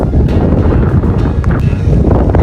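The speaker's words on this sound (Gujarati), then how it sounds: "જો આવે તો પવન તો આવે" Strong wind buffets the microphone outdoors near a hillside temple, a loud continuous rumble that gusts without break for the whole stretch.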